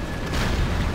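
An artillery fire mission explosion in C&C Generals Zero Hour, a single heavy booming blast that fills the whole second, loud and close.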